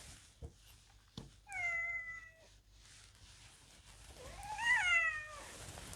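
A tomcat meows indoors, two short drawn-out calls followed by a louder, wavering meow a few seconds later, fairly close and alone with faint background noise.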